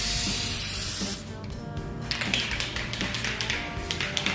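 An aerosol spray can lays a thin dusting first coat in a steady, close hiss for about a second, then stops, leaving faint tapping and handling noises.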